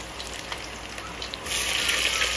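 Onion frying in oil in a pan on a wood-fired stove, a steady close sizzle that turns noticeably louder and brighter midway, with no talking.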